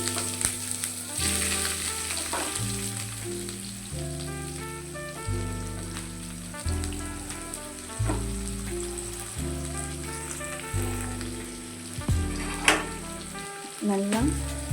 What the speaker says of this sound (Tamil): இப்போ நம்ம கட் பண்ணி வச்சுருக்க வெங்காயம் போடலாம்.